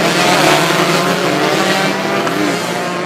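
Two-stroke racing motorcycles at a Thailand road racing event, a steady loud engine roar filling the whole clip, moving around the track without a break.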